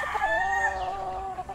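A Polomolok native chicken rooster crows in a drawn-out call that trails into a few soft clucks, heard close and clear with no talk over it.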